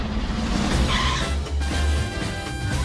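A cartoon limousine pulls up with tires skidding, a loud close screech over a low rumbling engine lasting the whole moment.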